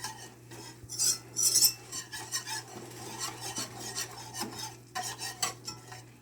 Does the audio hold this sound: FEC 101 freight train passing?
no